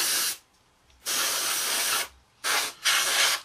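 An airbrush sprays paint onto a 1/48 scale Kinetic E-2C Hawkeye model kit in repeated steady hissing bursts, each about a second long with short pauses between, close and loud with no talking.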